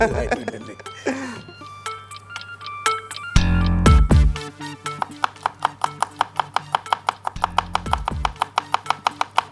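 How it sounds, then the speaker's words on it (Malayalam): Rapid, even knife strokes finely chopping vegetables on a board, quickening into a fast steady rhythm over a sustained tonal musical background. "കുനുകുനെ കുനുകുനെ അരിയുകയാണ്"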